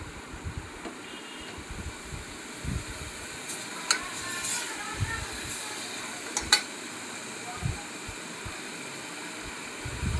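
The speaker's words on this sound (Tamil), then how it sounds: "வெங்காயம் விழுத நல்லா வதக்கணும்." Onions sautéing in a pan for chicken gravy, a continuous soft sizzle with occasional stirring scrapes and clinks of a utensil against the pan, close and moderately loud.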